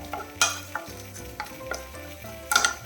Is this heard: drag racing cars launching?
no